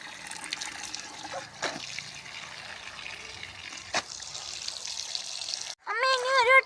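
A child's new frock is rinsed in a second tub of fresh water, with steady splashing and trickling, two sharper sloshes, then a short burst of louder chatter at the end.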